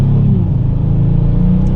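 2022 Kia Stinger GT2 AWD in sport mode, pulling hard in second gear on paddle shifters: a loud, steady engine and exhaust drone with low rumble, continuous and close throughout.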